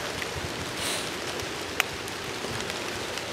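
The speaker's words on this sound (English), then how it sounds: "It's starting to rain a little harder" Rain falling steadily harder in the woods during a November bow hunt, a dense close hiss of drops on surfaces with one brief sharp tick.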